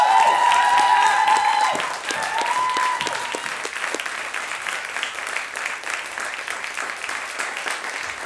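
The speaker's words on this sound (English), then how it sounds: "Can I please have a massive, massive, massive round of applause for all of Stag Media, for stage crew" A large audience applauds the stage crew at an evening student-government event, dense sustained clapping that stays loud throughout and eases slightly toward the end.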